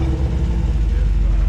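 A 1980s Toyota pickup engine revving in low gear as the truck climbs through snow, giving a steady, close, low rumble that holds for a short moment.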